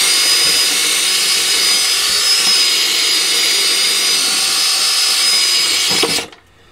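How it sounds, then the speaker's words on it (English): A power drill bores out aluminium rivets on a 30-40 year old Hotpoint washing machine motor, a loud, steady high-pitched whine running continuously for about six seconds before cutting off abruptly. "The only way you're going to do it is to drill it out"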